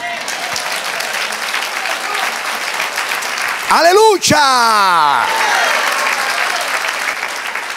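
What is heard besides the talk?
congregation applause for the Lord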